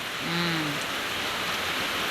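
Steady rain falling outdoors, a continuous broadband hiss that stays even and fairly loud throughout, with a brief low tonal sound near the start.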